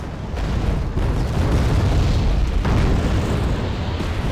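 Tanks blow up in the video game Wargame, a loud, dense rumble of explosions that carries on without a break, with a couple of sharper bursts inside it.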